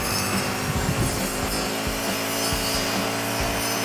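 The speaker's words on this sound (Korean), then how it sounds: "이 원형 톱날 같은 경우는 정말로 이거 그라인더나 나무 자르는 각도 절단기처럼 매끈하게 돌면서 잘라지는 느낌이 확실히 나거든요" A brush cutter fitted with a circular saw blade runs at a constant high whine while cutting a tree branch, with a dense, loud grinding roar and faint periodic thumps as the blade bites into the wood.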